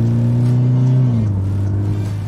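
Steady low engine hum of a 2014 Toyota FT 86 sports car driving in snow mode, with a slight drop in pitch partway through, loud and close, no voices.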